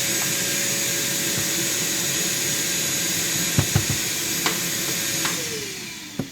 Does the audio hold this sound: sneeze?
no